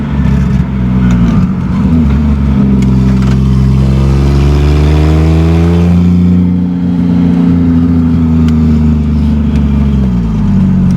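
A 1987 Toyota Supra with a swapped 2JZ-GE engine running a non-factory turbo revs loudly and steadily up and down for several seconds, its tone rising and falling close by, with a boost leak adding to the sound.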